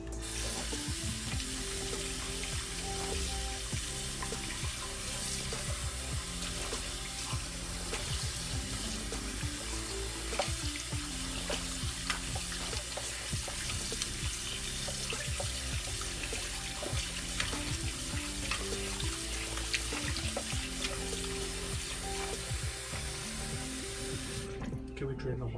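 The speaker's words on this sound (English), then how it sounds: "you can soak this rib in the cold tap water for 1 hour or 2 hours" Cold tap water runs steadily into a kitchen sink where pork ribs are washed, a continuous loud splashing hiss with occasional faint voice underneath.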